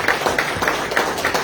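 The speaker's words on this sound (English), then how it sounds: "Can I have a round of applause for the Aston Lions Club?" Brief round of applause for the Aston Lions Club at a township commissioners meeting, a small group clapping in steady, moderately loud rhythm.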